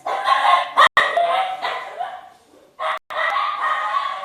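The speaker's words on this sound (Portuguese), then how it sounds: "Meu cachorrinho tá latindo, ó." A small dog barks high and shrill in a home, several loud yapping bursts close to the microphone with short pauses between them.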